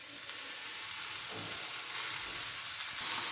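Grated medium tomatoes hitting hot oil seasoned with turmeric in a pan, a soft, steady hiss of frying that swells slightly toward the end, close and quiet with no voices.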